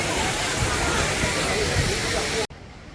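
A waterfall at Kutralam roars as a steady, dense rush of splashing water, loud and close throughout before cutting off abruptly near the end.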